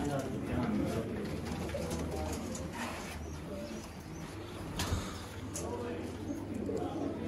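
A breeding pair of pigeons in a loft coo softly, low murmuring calls running steadily under background noise while someone talks over them.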